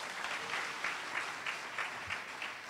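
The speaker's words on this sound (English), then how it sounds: "Give them a round of applause." Crowd applause at a 70th birthday party, a dense steady wash of many hands clapping with regular swells of louder bursts, close and continuous with no talk over it.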